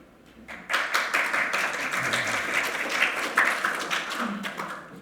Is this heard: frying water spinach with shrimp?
no